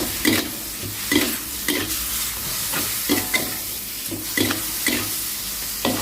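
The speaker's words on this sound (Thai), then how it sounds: "แล้วก็ใบกะเพรา ไปเลยแล้วก็ผัดให้เข้ากันค่ะ" Squid is stir-fried with kaffir lime leaves, chili and holy basil, with a loud, continuous sizzle and rhythmic spatula scrapes roughly every second, close by and with no speech.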